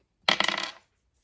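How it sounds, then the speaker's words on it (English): Dice being rolled, a quick burst of hard clattering rattles lasting about half a second, close and alone in otherwise quiet surroundings. "I'm going to go ahead and roll the dice"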